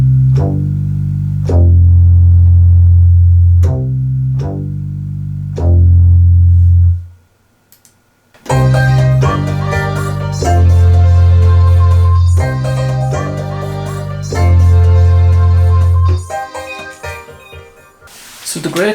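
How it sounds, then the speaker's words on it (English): An 80s-style synth bass preset called Love the 80s from the Xpand!2 instrument in Pro Tools pulses in heavy, booming low notes, first alone, then after a short gap with a fuller dance beat and chords layered on top. "This bass sound is in synth basses, and it's called Love the 80s."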